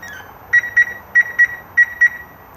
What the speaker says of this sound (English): you will get a series of loud beeps and flashes to let you know that either the passenger door is not shut correctly